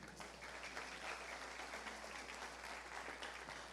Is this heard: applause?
yes